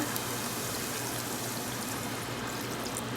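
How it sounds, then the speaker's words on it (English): Water pours steadily into a cooking pot of homemade puppy food with peppers, a continuous close splashing rush with no one speaking. "We're going to add some water"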